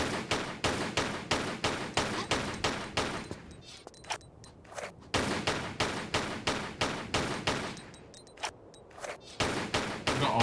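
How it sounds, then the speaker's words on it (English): Rapid gunfire in Tomb Raider: The Last Revelation, close and loud repeated shots in fast rhythmic bursts, pausing briefly in the middle before resuming in another steady volley. "Look at all of her bullets just going everywhere."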